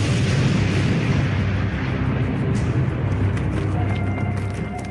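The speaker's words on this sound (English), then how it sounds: "the engineers had to clear them with the Bangalore torpedoes" Bangalore torpedoes blast through barbed wire with a dense, continuous roar of rumbling explosions and crackling debris, loud and sustained throughout.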